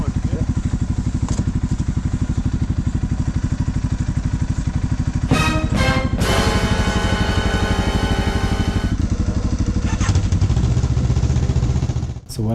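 A motorcycle engine runs steadily throughout a snowy ride, a continuous loud drone with rising revs and brief clattering bursts in the middle, ending in a short drop near the close.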